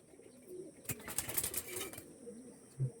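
Pigeons of a high-quality Andhra breed give low, soft coos in a few short phrases, with a brief burst of wing flutter in the middle and a close coo near the end.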